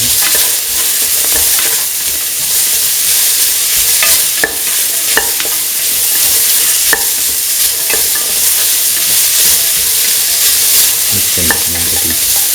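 Tomato pieces being stirred into lentil carrot rice in a hot pan, with a steady loud sizzle and frying hiss throughout, broken by repeated scraping clicks of the spoon against the pan.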